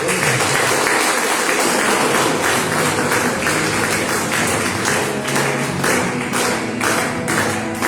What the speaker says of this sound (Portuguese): O Senhor Jesus, uma linda salva de palmas.